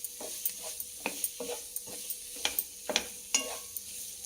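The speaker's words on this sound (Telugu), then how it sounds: "సగం ఆనియన్ వేగినాక ఇవి వేసేసుకోవాలి. సగం కంటే ఎక్కువే వేగిందండి ఆనియన్." Onions and chicken pieces frying in a pan, with quiet sizzling under a series of regular stirring scrapes and clacks about every half second, close and fairly soft, with no talk.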